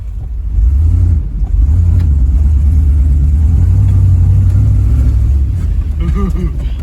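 Engine of an abandoned Chevrolet Suburban running after 13 years of sitting, a loud close rumble that swells and revs as the truck moves through water and mud, with bursts of voices over it.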